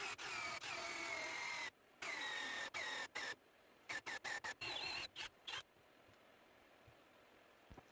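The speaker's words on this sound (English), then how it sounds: "I'm going to use a 3-inch hole sub bit to drill a hole through all 4 of these sections" A power drill with a 3-inch hole saw bit whines loudly cutting through wood sawhorse sections in a long run, then in a series of short stop-start bursts before falling silent.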